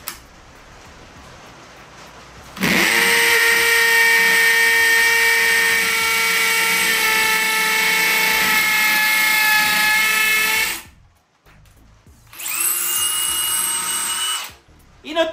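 A Bosch GSB 18V-150C cordless hammer drill runs at speed 2, a loud, steady high whine held for about eight seconds, then stopping and briefly restarting before cutting out.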